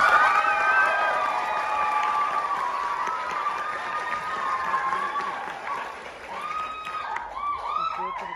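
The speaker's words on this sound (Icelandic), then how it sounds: "Gefum gott klapp." Audience applause mixed with cheering and whoops after a youth dance school performance at an Unglist 2022 show, a steady dense clapping wash from the crowd that carries on throughout with shouts rising near the end.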